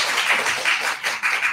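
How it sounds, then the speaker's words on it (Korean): Church congregation clapping to welcome a newly registered deacon during a Sunday morning service, a dense, steady patter of many hands applauding together at even volume. "우리 집사님 위해서 우리 환영의 박수"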